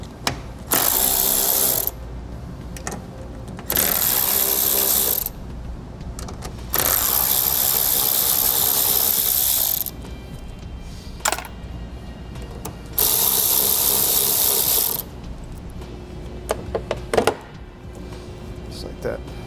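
A ratchet with a 10mm socket clicks rapidly while removing the factory mirror nuts on a 2014 Chevrolet, several bursts of fast close clicking separated by pauses.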